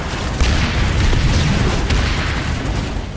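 Cannon fire in the MergerSmash video game battle, a loud, dense roll of booming blasts and bursts that merge into a continuous rumbling barrage across the whole stretch.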